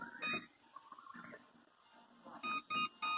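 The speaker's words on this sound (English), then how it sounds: "I'm going to set my timer for 11 minutes now." Kitchen timer being set for a fudge recipe gives a short electronic beep, then quiet button handling, then three louder beeps in a quick row, heard close.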